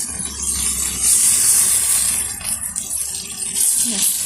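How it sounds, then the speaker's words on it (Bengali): Water is poured into a pan of pointed gourd, giving a loud, close hissing gush that swells and then eases off. "এবার দেবো পরিমাণ মতো জল, পটলটা একটু সিদ্ধ হওয়ার মতো,"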